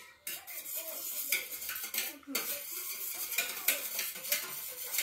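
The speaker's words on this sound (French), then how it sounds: "On mélange tout ce qui est solide, tout ce qui est liquide." Pancake batter is mixed in a bowl, with a utensil clattering and scraping steadily against the sides for several seconds, close and fairly busy, with no talk.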